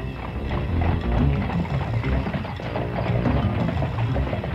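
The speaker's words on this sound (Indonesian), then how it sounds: "Oh, ada gerobak menuju ke arah sini." Clip-clop sound effect of a horse-drawn cart approaching in a radio drama, a steady rhythm of hooves with rolling wheels beneath, fairly loud and alone.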